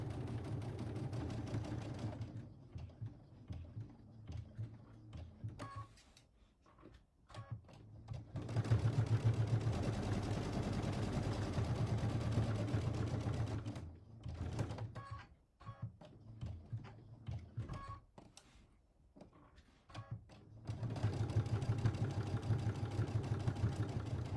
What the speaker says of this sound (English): this is going to give me an 1/8 inch stitch if I guide my fabric on the inside of that foot